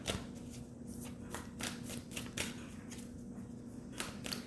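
Tarot advice cards are shuffled by hand up close, a quick run of crisp riffling flutters and slaps repeating in a steady rhythm.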